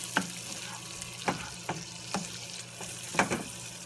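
Rice fries in butter in a pan, a soft, steady sizzle broken by several sharp stirring scrapes spaced about half a second to a second apart.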